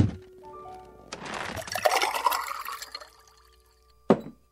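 Water is poured for a visitor in a radio drama: a clink, then a splashing pour that rises and tapers over a couple of seconds, followed by a sharp knock of a glass or jug set down.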